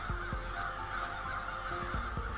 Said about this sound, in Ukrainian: А ворона каркає.